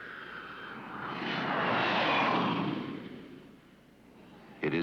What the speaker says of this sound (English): But noise from our jets was here before it came.